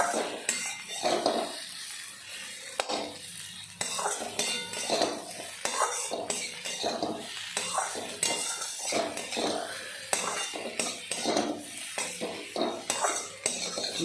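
A utensil stirs food in a pan, giving steady scraping and clinking with a soft sizzle underneath, continuous and close for the whole stretch.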